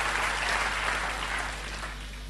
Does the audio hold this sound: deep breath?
no